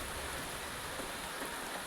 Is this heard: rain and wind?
yes